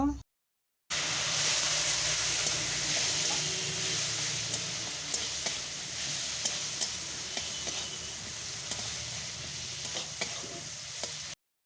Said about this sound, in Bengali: অল্প জল দিয়ে মশলা কষে নেব